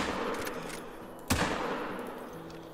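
A single sharp 45-70 rifle shot at bison in theHunter: Call of the Wild, a crisp crack that fades against quiet outdoor ambience.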